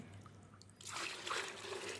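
Rain and tap water pour into a mustard cake fertilizer mix, starting as a soft trickle and swelling after a moment into a steady, close splashing stream.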